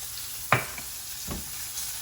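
Steak sizzles in a frying pan as it is basted, a steady hiss of frying fat broken by a few soft scrapes and splashes of spooned fat, close and fairly quiet, with no voices.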